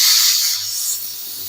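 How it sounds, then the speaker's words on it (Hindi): A pressure cooker holding aloo matar curry lets off its steam in a loud, close, continuous hiss that fades slightly toward the end, alone. "फ्लेम को ऑफ कर देंगे और कुकर का सारा प्रेशर निकाल देंगे।"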